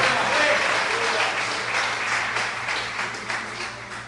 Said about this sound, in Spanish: Si quiere aplaudir, aplauda.